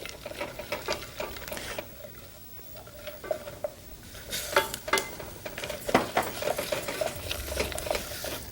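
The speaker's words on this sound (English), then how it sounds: "Now let's stir these up until the almonds become a little golden brown" Slivered almonds sizzle in a hot pan while being stirred, giving a steady soft crackle broken by repeated scraping and clinking strokes of a utensil against the pan, close and fairly quiet, with no talking.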